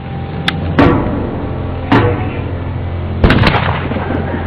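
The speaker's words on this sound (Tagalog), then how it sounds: "Testing ko tol ngayon yung aking napakagandang baril." A prized gun being test-fired on a bird hunt, giving sharp single shots spaced apart, then a quick double report, loud and close, with no talk.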